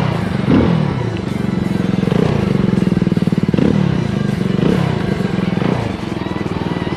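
A Benelli TRK 502X adventure motorcycle engine idles and blips its throttle, a loud, close, rapid thumping firing pulse that swells in several revs over the steady run.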